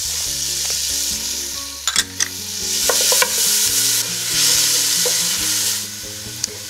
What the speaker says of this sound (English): I'm going to heat some butter in a large pot over medium heat. I'm going to add 1 chopped onion